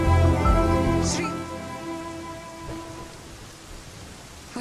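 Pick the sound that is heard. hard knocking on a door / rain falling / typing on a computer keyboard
rain falling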